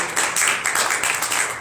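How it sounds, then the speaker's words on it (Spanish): A church congregation applauds during a Spanish-language worship service, a dense, steady wash of many hands clapping close by that fills the whole moment without a break. "Denle un aplauso a Jesucristo,"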